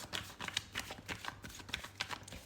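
A deck of tarot cards is shuffled close up, a quick run of soft papery riffles and flicks in a steady, rhythmic pattern with no voice over it.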